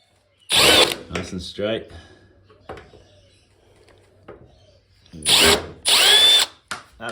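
A power drill backs screws out of a Samsung TV, two loud whirring bursts at the start and again near the end, with quiet talk and ratcheting clicks in between.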